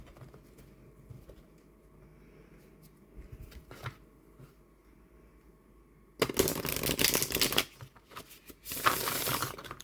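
A tarot oracle card deck is shuffled up close: soft handling rustles give way to loud, dense riffling bursts of cards, then a brief pause and a second riffle.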